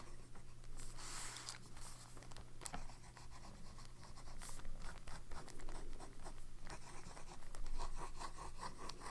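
A Junhao X750 fountain pen with a broad nib writes on paper, making soft, close scratching strokes in irregular bursts with brief pauses between them.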